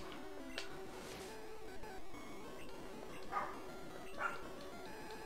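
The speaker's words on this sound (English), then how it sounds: "Also, the barking." A dog barks faintly in the distance, with two short barks standing out against a steady, quiet background hum.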